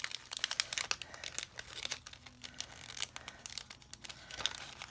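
Plastic packaging of die cuts crinkles and rustles as it is handled, with quick close crackles and crumples going on throughout.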